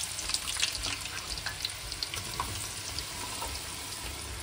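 Thinly sliced onions frying in heated oil for chicken biryani: a continuous, soft, close sizzle with small crackles and pops, no voices.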